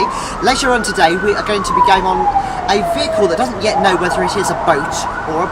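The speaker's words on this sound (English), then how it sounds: "apparently that's just the ambulance coming around to drop them off shortly" An ambulance siren on a Dublin street wails in one long, slow, clear sweep, rising and falling, heard steadily under continuous talking from a nearby speaker.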